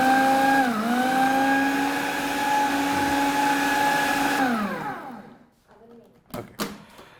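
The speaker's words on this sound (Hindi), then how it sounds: "आपने इसको क्या करना है, पीस लेना है." An electric kitchen grinder whirs loudly and steadily while grinding spice ingredients into a fine paste, its pitch dipping briefly under load and then sliding down as the motor is switched off, followed by a few faint clicks.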